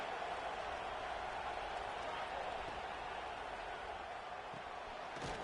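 Football stadium crowd waiting on a big third down fills the air with steady, distant-sounding roar and murmur, an even wash of noise without sharp peaks.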